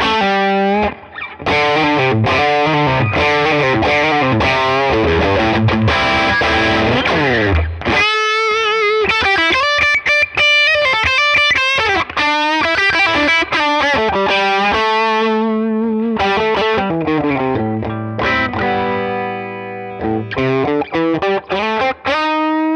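A Gibson Les Paul electric guitar plays through its moderately wound bridge pickup with heavy distortion, loud chords and riffs ringing out with clear attack and sustained overdrive, with no talk.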